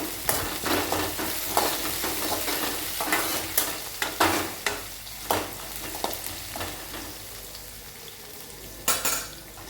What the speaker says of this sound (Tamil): இப்போ இது எல்லாத்தையும் நல்லா வதக்கிட்டு